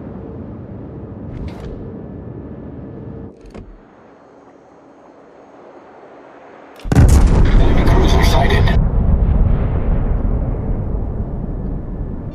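Naval artillery from the battleship Satsuma in World of Warships: a quieter rumbling stretch with a brief thump, then a sudden loud, heavy salvo boom around the midpoint that rolls into sustained roaring and crackling.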